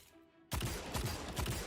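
A burst of Destiny 2 Ace of Spades hand cannon fire erupts suddenly after a brief quiet, loud and dense with rapid crackling blasts and a futuristic, electronic edge.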